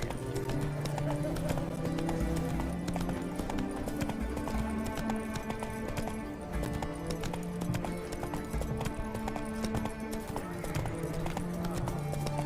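Geralt's horse Roach in The Witcher 3 trots with steady rhythmic hoof clip-clops, close and continuous, under a layer of game music and ambient tones.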